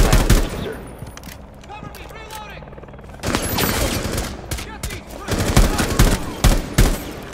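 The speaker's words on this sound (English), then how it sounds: "We're like shooting past each other's faces." Rapid bursts of automatic gunfire ring out in a Rainbow Six Siege match, a loud clattering volley, then a quieter stretch, then renewed heavy firing while players talk over it.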